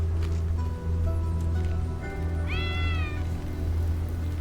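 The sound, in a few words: cat meowing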